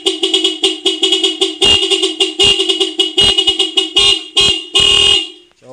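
A car horn honks repeatedly in short and long blasts, loud and close, with an irregular rhythm and no other sounds.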